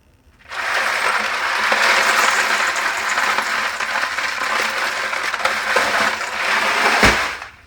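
Ice poured over rinsed northern pike in a bowl, a continuous rattling clatter of cubes lasting several seconds and ending with a single clunk.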